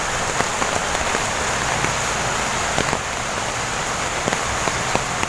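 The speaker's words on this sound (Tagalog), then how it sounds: "Grabe talaga ang lakas ng ulan mga kadudong" Heavy rain pours down nonstop, a dense, loud, steady hiss of drops hitting surfaces close by, with occasional sharper drip taps standing out and no talk.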